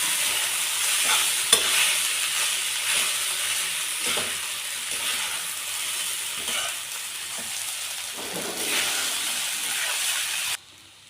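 Soaked sabudana (sago pearls) for upma with salt and turmeric is stirred in a pan over a low flame, giving a steady close sizzle and hiss broken by scraping stirs, then ending abruptly.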